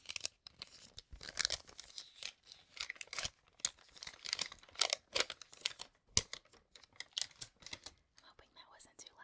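Close, quiet rustling and crinkling of paper being handled, in short irregular bursts with brief pauses between.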